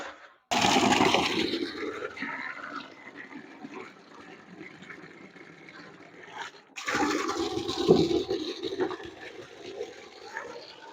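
Water gushes and splashes into a container of cattle feed with bran in two bursts, loud and close, with a quieter trickling stretch between them.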